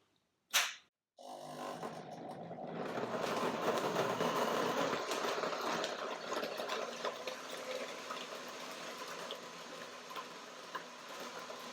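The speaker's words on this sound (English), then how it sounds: "So blender dance. Let's see what happens." A high-speed blender whirs through persimmon, orange and frozen fruit for a smoothie, starting after a sharp click and then running as a continuous, fairly quiet steady grind.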